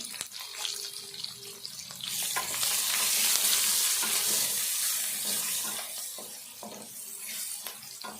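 Onion and turmeric fry and get stirred in a hot pan at home. The sizzle swells loud and steady through the middle, then eases off, with scraping stir strokes under it and no talk.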